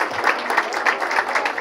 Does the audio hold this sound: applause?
yes